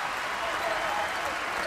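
Basketball arena crowd at a Marquette at Butler college game, a steady broad roar of cheering and applause filling the whole short stretch, distant and even without distinct voices.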